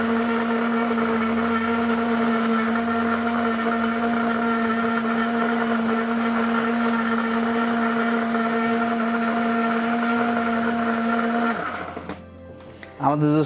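A commercial blender whirs at a steady high pitch while blending mixed fruit into juice, the strong continuous drone holding for most of the stretch before it is switched off and winds down near the end.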